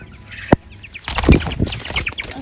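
Five-week-old young quail of wild coloring calling, a sharp single call followed by a burst of rapid chirps and rustling flutter at close range.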